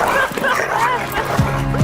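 Dog whimpering and yipping with a short bark, set against a busy, loud background with other sounds; a strong low tone rises near the end.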